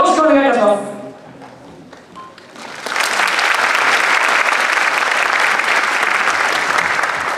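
Audience rhythmic clapping along with dancers at a Japanese yosakoi-style dance festival performance; after a spoken announcement and a brief lull, a dense wash of crowd clapping starts and continues steadily, loud and sustained.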